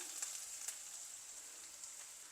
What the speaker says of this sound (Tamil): பாவக்காய் பொறிஞ்சிடுது முக்கால்வாசி பொறிஞ்சிடுது இன்னும் கொஞ்சம் ஃப்ரை ஆகணும்